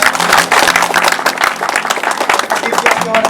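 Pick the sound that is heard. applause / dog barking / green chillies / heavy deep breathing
applause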